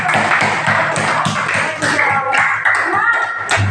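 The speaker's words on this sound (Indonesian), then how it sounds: "Kasih tepuk tangan dulu dong" Schoolchildren in a classroom clap their hands together in a rhythmic, patterned burst, close and fairly loud, with young voices chanting along through most of it.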